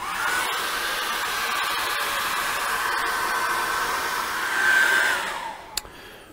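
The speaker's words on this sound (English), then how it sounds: "So I'm just going to get the hairdryer on that" Hair dryer blowing steadily on a fresh acrylic sunset painting, a loud continuous whoosh that holds for several seconds, swells briefly, then cuts off near the end.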